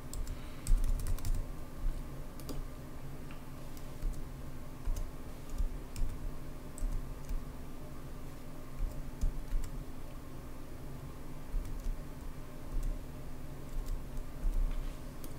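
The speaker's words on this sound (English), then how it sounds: "So I'm going to go ahead and type in my information." Continuous keyboard typing on a computer while login details are entered, a steady run of soft close clicks and key taps, with a faint hum underneath and no talking.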